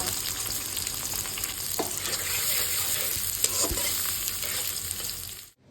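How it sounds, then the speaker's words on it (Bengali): Sliced onions, cut a little thick, frying steadily in oil to make birista for a chicken roast, a continuous close sizzle with occasional stirring scrapes and no talk. "এই পর্যায়ে আমি রোস্টের জন্য বেরেস্তা রেডি করে নিচ্ছি"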